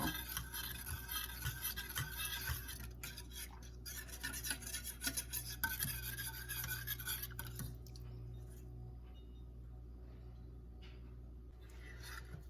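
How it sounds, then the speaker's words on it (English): A spoon stirs milk in a pot on the stove as it warms and thickens. Soft, steady scraping and rubbing repeats alone, quiet and close, and fades toward the end. "So it is important to keep stirring when you do this."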